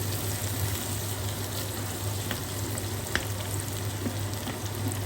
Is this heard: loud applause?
no